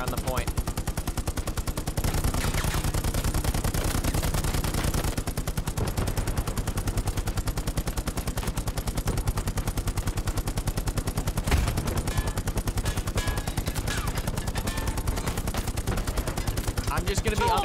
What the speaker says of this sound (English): I'm laying down suppressive fire on the point